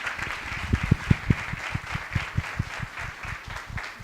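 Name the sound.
audience applause for Renata and her laboratory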